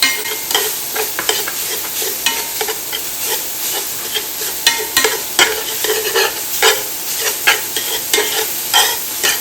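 Ground meat and vegetables for Louisiana dirty rice sizzle steadily in a pan while a utensil chops and stirs, giving repeated scraping taps over a constant frying hiss, close and fairly loud.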